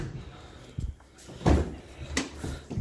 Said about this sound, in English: So we open the back doors.